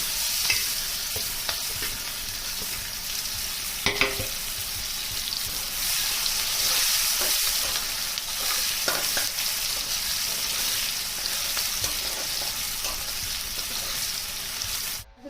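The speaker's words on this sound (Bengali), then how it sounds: "এবার আমি পেঁয়াজগুলোকে দিয়ে দিচ্ছি।" Onions hiss and sizzle loudly in a hot pan, with a few scraping stirs and clanks breaking the steady crackle.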